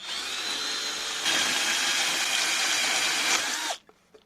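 A continuous high-pitched drill whine runs for nearly four seconds as it bores into a beer can, rising slightly partway through, then cuts off abruptly.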